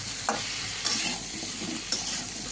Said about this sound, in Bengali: এবার আমি কষে নেবো এইভাবে কুমড়ো আলুটাকে।